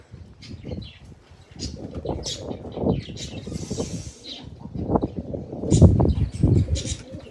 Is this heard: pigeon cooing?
yes